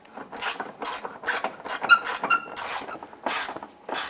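A socket wrench snugs down a headlight mounting bolt on a 2002–2008 Dodge Ram 1500 during a performance headlight install, giving a close series of quick rasping ratchet strokes in an uneven rhythm with short pauses between them.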